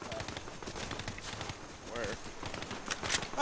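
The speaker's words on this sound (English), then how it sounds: "I hear gunshots." Gunfire crackles in a Fortnite match, a series of quick distant shots scattered under busy game noise while a player speaks briefly.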